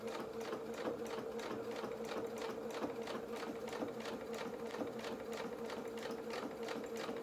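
A domestic sewing machine chain piecing small fabric pieces, running at a steady fast stitching rhythm that continues without a break, close and clear.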